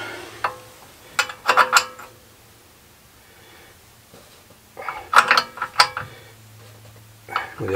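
Wrench ratcheting as a brake hose fitting is tightened on a Mercedes 500 SL R129, in two close bursts of quick metallic clicks with short pauses, a few more clicks at the end.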